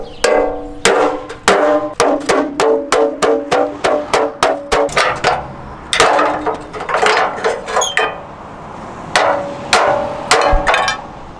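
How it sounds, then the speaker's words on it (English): Loud, rapid hammer blows on a Nissan Silvia's metal bash bar, a quick run of sharp clanging strikes with brief pauses, then another burst of hits near the end. "Ball welds are drilled out, gonna fucking hammer it now."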